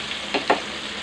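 Flour-coated fish frying in hot oil gives a steady low sizzle, with two brief louder crackling bursts partway through; no voices.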